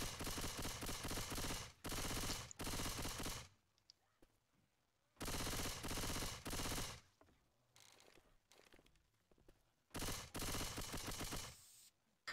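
Bursts of rapid automatic gunfire from a weapon in Left 4 Dead 2, loud and close, coming in four dense strings of shots separated by short pauses, with faint talk in the gaps.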